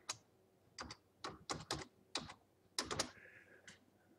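Irregular clicking of computer keys, a few quick keystrokes in small clusters, close and fairly quiet with no talking.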